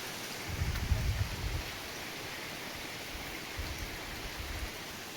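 Rain falls steadily in a village during the rainy season, making an even hiss with a couple of dull low bumps near the start and later.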